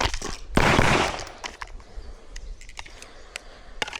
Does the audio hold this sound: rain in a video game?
no